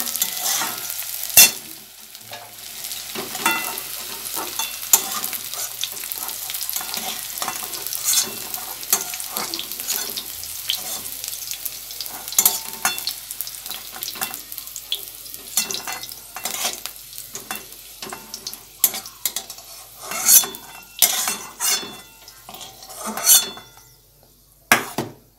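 Fried cauliflower and potato scraped and lifted from a pan onto a plate, with repeated metal utensil scrapes and clinks against the cookware over faint sizzling, growing sharper and more clustered toward the end.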